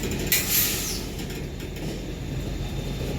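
A passing train rumbles steadily with rattling wagon noise and a brief sharp metallic squeal early on, heard from nearby with no talking.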